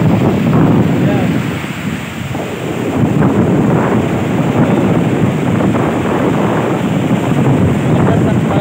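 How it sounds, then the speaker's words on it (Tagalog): Strong ocean waves churn and crash along the Curias Island shoreline during a typhoon, a loud, continuous surf roar buffeted by heavy wind noise on the microphone. "Malakas ang alon."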